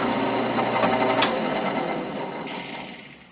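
A drill bit grinds through an axle vent hole in a steady, loud mechanical whir that tapers and thins near the end as the bit breaks through.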